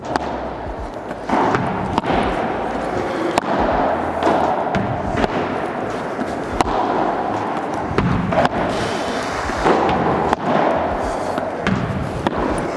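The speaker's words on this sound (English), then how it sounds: "making sure that every time we're contacting middle of the racket" Tennis racket strikes on a ball during a training session after a long break, a series of sharp thumps spread across the stretch amid court noise and some talk.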